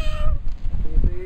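A goat at a farm park gives one short, wavering bleat close to the microphone, followed by a brief second cry.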